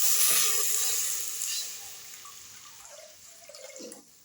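Water pours with a thin splashing trickle into a cooking pot, measured out to match the wheat milk for kurdai, tapering off gradually with small splashes near the end.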